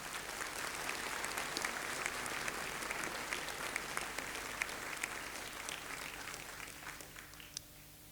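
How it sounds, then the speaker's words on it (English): A university graduation audience in Newcastle, Australia gives a sustained round of applause for an award recipient, even and somewhat distant clapping across the hall with no voices on top. "she deserves a round of applause"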